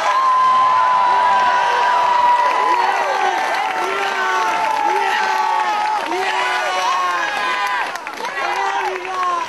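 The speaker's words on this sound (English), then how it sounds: "So let's give a big cheer to our national regional champions." A crowd at a homecoming reception for the 2010 Auburn Little League regional champions cheers and applauds loudly, with whoops and children shouting throughout, staying strong and continuous to the end.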